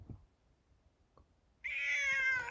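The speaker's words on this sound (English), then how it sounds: "I see a purple cat looking at me." A single drawn-out cat meow rises clearly after a quiet lead-in with faint soft knocks, close and fairly loud.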